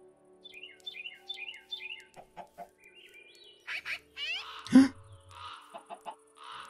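Chickens cluck and squawk in the Minecraft video game, a few short rhythmic clucks first, then scattered game effects and a sharp burst, clean and close with no talk.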